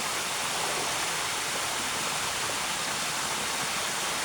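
Steady, dense rush of flowing river current, close and loud, a continuous broadband wash without pauses or voices.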